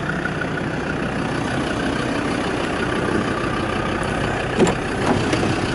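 A Land Rover Discovery with a manual gearbox idles in a steady, low, close rumble, with a couple of faint clicks near the end.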